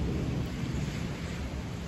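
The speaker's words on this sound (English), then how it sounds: "It just started raining out of nowhere and there's like so much thunderstorm" Sudden thunderstorm with rain, a dense, steady roar of downpour and low rumble filling the whole stretch, no voices over it.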